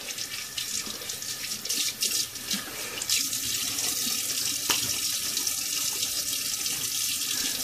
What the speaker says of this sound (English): Let me give a quick cold rinse.